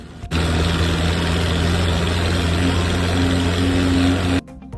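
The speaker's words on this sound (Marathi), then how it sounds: "जेवढं ट्रॅक्टर पळतंय तेवढं पळवलं" A tractor engine heading out for ploughing runs with a loud, steady low drone that starts abruptly and cuts off sharply near the end.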